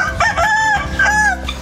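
A rooster on Réunion island crows loudly and close by, one long drawn-out call with a rising and falling tone, followed by a second crow, with no talking.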